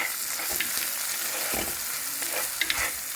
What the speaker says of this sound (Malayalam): ഇനി നമ്മൾ അരിഞ്ഞ് വെച്ചിരുന്ന ചെറിയ ഉള്ളി, ഒരു 10-15 ചെറിയ ഉള്ളി, അതൊന്ന് നന്നായി ജസ്റ്റ് ഒന്ന് വഴറ്റാം.